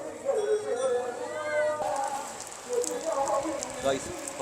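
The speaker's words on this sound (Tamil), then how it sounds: "இப்போ பார்த்தீங்கன்னா மழை பெய்து கொண்டு இருக்குது." Steady rain patters and hisses continuously, with a voice speaking over it for most of the clip.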